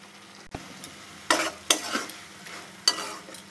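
Spices with ginger, garlic, cumin, cardamom and cinnamon stir-fry in a pan with a low sizzle, broken by several sharp scrapes and knocks of a spoon against the pan.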